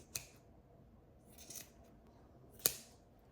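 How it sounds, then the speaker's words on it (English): Scissors trimming the long cord ends of a macramé coaster: three quick, close snips, the last one the loudest, with quiet room tone between them. "I'm just going to trim the longer ones"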